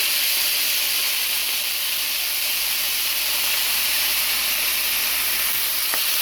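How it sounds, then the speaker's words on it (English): A steady, bright hiss of cabbage sizzling in a hot skillet runs unbroken throughout, loud and close. "when you hear that sizzling, you know that your skillet is good and hot"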